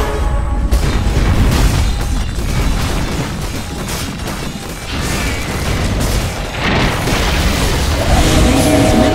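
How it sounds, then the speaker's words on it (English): Tower being destroyed in Dota 2, a loud sustained rumbling crash and boom that fills the clip and swells again near the end, with game sounds layered over it. "Radiant's middle tower has fallen."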